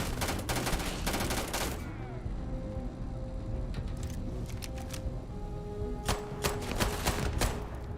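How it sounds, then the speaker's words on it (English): Explosive pistol gunfire in Starfield during a fight with pirates, sharp cracking shots in quick clusters over a loud, dense background of combat noise. "Nothing like explosive pistol."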